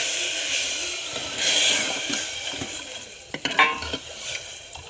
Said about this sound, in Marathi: तेलामध्ये लगेच त्याला फ्राय करून घ्यायचं एकदम सुगंध सुटेपर्यंत